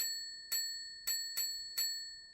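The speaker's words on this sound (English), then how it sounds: "And there's also a little service bell." Small service bell in a Minecraft furniture add-on, struck four times in quick uneven succession, each ding bright and clear and ringing out briefly, with no talking.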